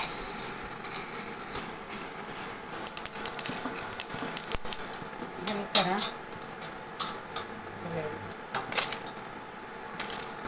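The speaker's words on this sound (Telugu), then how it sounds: "అవిసె గింజలు వేయించుకుంటున్నామండి ఆయిల్ వేయకోకుండానే వేయించుకోవాలి" Flax seeds dry roasting in a pan with no oil, giving a steady run of light scratchy rattles and clinks as the seeds are stirred and tossed, close by, with occasional louder metallic taps.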